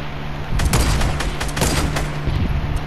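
Dense bursts of Fortnite video game gunfire crackle in rapid volleys, loud and close, a steady barrage of overlapping shots filling the whole moment with no talk.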